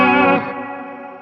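A Zoom MultiStomp MS-70CDR effects pedal set to its HD Hall high-density reverb turns a sustained, harmonically rich guitar-like tone into a thick, smooth wash that fades gradually after an initial louder burst, with no voices.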